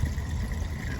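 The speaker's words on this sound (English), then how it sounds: "Gonna fill up the reservoir with some water here." Water pours steadily into a car's radiator reservoir, a short continuous gurgling splash heard close up with no talking.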